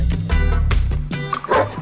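Search and rescue dog in training with firefighters, barking and yipping in quick repeated bursts, loud and close, with a few whimpering notes in between.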